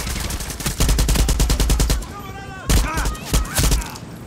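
Loud, rapid bursts of automatic gunfire in Far Cry 6 combat, one long rattling volley followed by shorter bursts, with a voice and groans in between.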